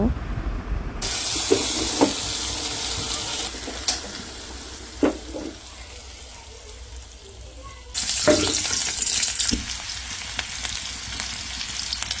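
Food hits hot oil in a pan and sizzles with a steady hiss that starts abruptly, then surges again later. Occasional utensil clatter sounds in a home kitchen.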